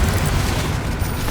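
A Bombarda blasting-spell explosion in the Hogwarts Legacy video game, a loud, sustained low roaring boom with crackling debris throughout, close and unbroken by speech.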